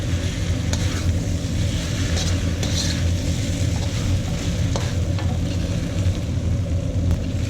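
Yakisoba noodles with shrimp and beef frying in a hot wok, a steady dense sizzle and crackle with a low rumbling bed throughout, close and continuous with occasional light clicks.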